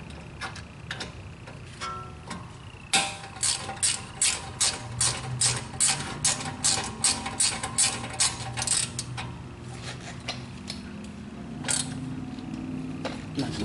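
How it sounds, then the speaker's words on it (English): Ratchet tightening brake caliper bolts on a 2006 BMW 330i E90: a close run of crisp, evenly spaced clicks in repeated strokes, with quieter metallic handling noises before and after. "And now I'll just finish tightening these bolts in place."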